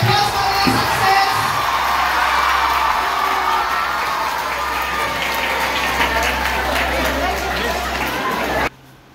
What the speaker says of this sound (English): please give a big round of applause for their success